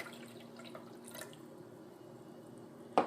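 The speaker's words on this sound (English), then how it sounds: "we'll just add in a little bit of the water" Water being poured into a pot on a stove while making sweet vermicelli gives a faint, quiet trickle and a few soft drips, with a sharper splash or clink right at the end.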